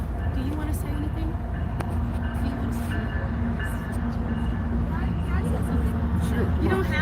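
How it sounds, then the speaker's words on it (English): A train rumbles past at an outdoor gathering, a steady loud low roar with squealing wheel tones running throughout, while people talk over it. "Let the train pass."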